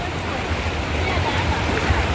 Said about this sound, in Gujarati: અમારા ગામની નદી.